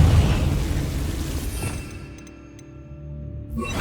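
A Confringo fire spell explodes in the video game Hogwarts Legacy, a loud rumbling blast that decays over about two seconds into faint debris, with another burst rising at the end.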